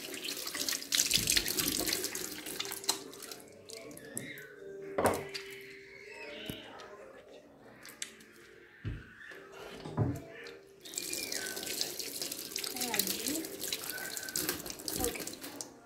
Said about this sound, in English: But first, you wash your hands.